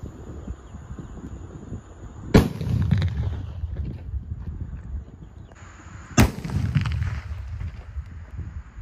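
Two sharp, loud King Banaspati Level 500 firecracker blasts about four seconds apart, each followed by crackling debris and rumbling echo against a steady outdoor background.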